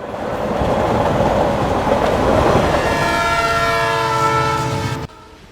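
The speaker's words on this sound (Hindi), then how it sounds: "लहरों की आवाज बंद हो गई और ट्रेन की आवाज सुनाई पड़ी" A train thunders close by with a loud sustained horn blast and rolling wheel clatter, cutting off abruptly near the end to leave a faint quiet background.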